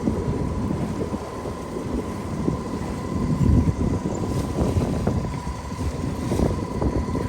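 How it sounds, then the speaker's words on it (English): Wind blows steadily while sailing toward Put-in-Bay, with a constant broadband rush and buffeting on the microphone. Water movement and hull noise sit underneath, and there is no talk. "The wind's picking up."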